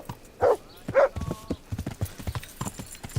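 Horse hooves in Kingdom Come: Deliverance, with two heavy, loud clops followed by a quicker run of lighter, evenly spaced steps close up.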